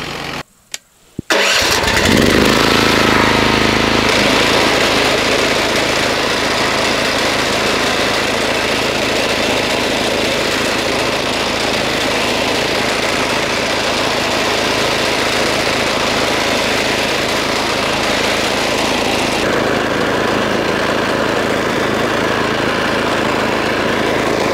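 An O'Mac lawn mower starts up and then runs loudly and steadily, its blade cutting grass in a large garden. The close, continuous engine drone holds with only slight shifts in tone.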